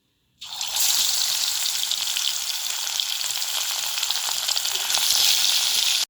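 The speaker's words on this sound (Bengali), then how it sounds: "এবার এর মধ্যে মাছগুলো দিয়ে আমি লাল করে ভেজে নেবো" Pieces of bhangal fish are dropped into hot mustard oil in a wok and fry to red with a loud, steady, close sizzle that starts abruptly and continues unbroken.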